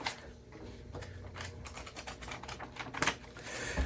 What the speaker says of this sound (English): fan out the page to remove any condensation that may make the paper stick together